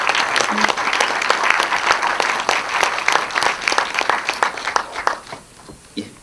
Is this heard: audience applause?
yes